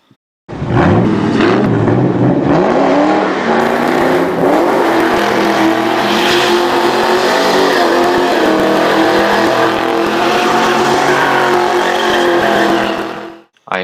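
A 4.6 liter Ford Mustang V8 revs hard and loud for about thirteen seconds, its rising and falling engine note roaring close by with some tire squeal, then cuts off abruptly.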